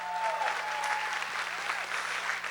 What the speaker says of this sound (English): If they can stand, we give them a round of applause.